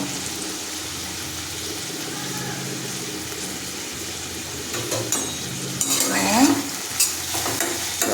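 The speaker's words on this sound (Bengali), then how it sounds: "টমেটো আর পেঁয়াজ একসঙ্গে দিয়ে দেবো" Tomato and onion fry together in a pan with a steady close sizzle, growing louder and busier toward the end as stirring scrapes and clatters against the pan.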